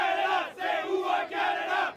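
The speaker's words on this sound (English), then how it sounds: "These intrepid fans who call themselves the Voyageurs have shown up in impressive numbers to cheer Canada on." Canadian soccer supporters known as the Voyageurs cheer for Canada at an international match, three loud rolling bursts of crowd chanting and shouting with brief dips between them, no commentary over it.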